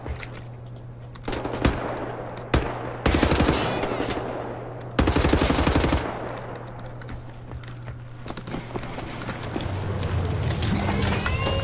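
Video game gunfire from The New Order hammers at a tank in rapid automatic bursts, loud and close, separated by short gaps over a steady low in-game hum and rumble.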